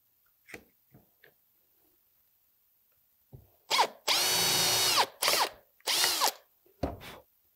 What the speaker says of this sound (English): Hold your drill nice and straight.